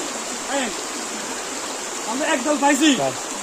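Rainwater flowing at a temple kund in Sitakund, Chittagong, produces a steady close rush of water throughout, with people talking over it.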